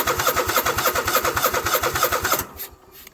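An engine cranks with the choke on, a fast rhythmic chugging of starter turns repeating for a couple of seconds that fails to catch and then stops, leaving quiet.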